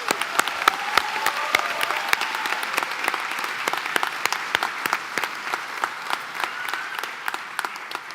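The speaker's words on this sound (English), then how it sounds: "Let's give them a round of applause." Steady applause from a crowd at a graduation ceremony, many hands clapping continuously at a moderate distance for several seconds.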